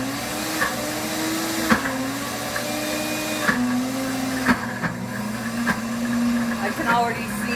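A blender grinding peanuts into peanut butter whirs in a continuous, loud motor drone that labors and shifts pitch, broken by a few sharp knocks. A person talks over the motor.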